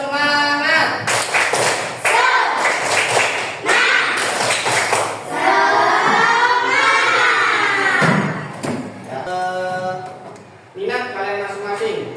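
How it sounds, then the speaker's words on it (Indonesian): A class doing a rhythmic spirit-clapping routine, voices chanting and singing loudly in unison while sharp, patterned claps and slaps punctuate the chant in bursts throughout. "Kita tepuk semangat dulu. Tepuk semangat."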